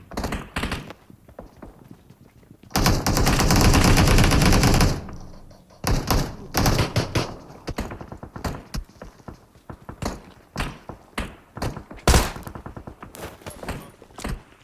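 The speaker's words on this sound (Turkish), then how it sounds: "Biri aşağıdan sıkıyor" Gunfire in PUBG Mobile, coming from below: a long sustained burst of automatic fire, then a dense run of separate sharp shots at varying distances, loud and punchy with short silences between.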